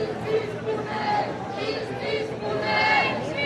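Thousands of people marching through the streets of Paris in remembrance of a teenager: a dense, continuous crowd murmur with overlapping voices and occasional raised shouts, steady and moderately loud throughout.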